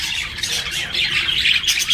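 A budgerigar chick squawks continuously and closely, a rapid run of harsh, raspy begging calls with no voices around.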